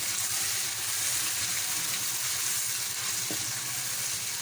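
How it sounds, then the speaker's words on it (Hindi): Onions frying in a pan, a steady, close sizzle with faint stirring. "प्याज को लाइट ब्राउन होने तक आपने भूनना है"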